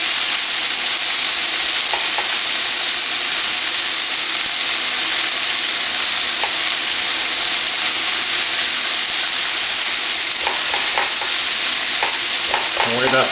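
Italian sausage and peppers sizzle steadily in an oiled pan at medium heat, a loud constant frying hiss with occasional stirring scrapes and clicks near the end.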